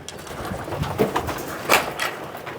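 Pigeons in a loft coo and call over a steady background, with several distinct bursts of calling from a few birds, fairly close.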